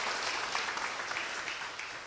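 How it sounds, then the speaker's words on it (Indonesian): Steady applause from an audience at a talk on keeping the heart good, a dense even patter of clapping for Pak Gunawan sustained through the whole moment at moderate volume. "Tepuk tangan Pak Gunawan."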